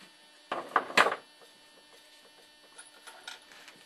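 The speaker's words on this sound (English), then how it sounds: "make a smaller hole and thread it with a threading machine like this" A threading machine cuts threads into a small hole in a hydrogen cell plate, heard as a short burst of loud, harsh mechanical grinding that fades into a faint ongoing hum with light clicks.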